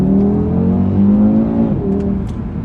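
Audi RS3 saloon engine revving up and holding a loud, close, steady engine note that shifts pitch near the end, with no talk.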